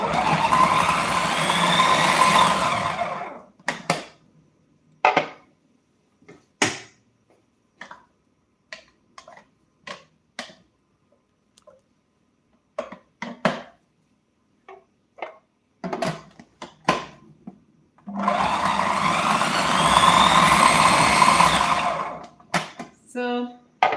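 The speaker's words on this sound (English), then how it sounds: "you have to have a blender like this" An electric blender chops beef for fine-dining croquettes in a loud, dense whir. Two bursts open and close the stretch, with a run of short sharp pulses and clicks between them.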